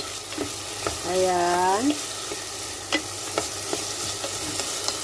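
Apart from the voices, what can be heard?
stirring potatoes and minced meat frying in a pan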